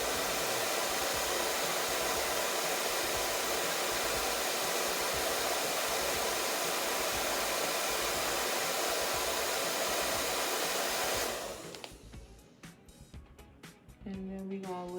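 A handheld hair dryer blows steadily on glue under a lace wig, a loud continuous roar for about eleven seconds that then cuts off abruptly, leaving faint handling noises.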